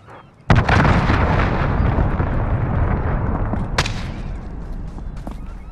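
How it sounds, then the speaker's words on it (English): Cruise missile strike in Call of Duty: Modern Warfare: a sudden loud explosion erupts and rolls into a long, dense rumbling blast with crackling debris, followed by a second sharp burst near the end. "Allied cruise missile on the way."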